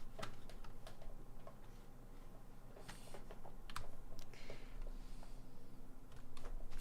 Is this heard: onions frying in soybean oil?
no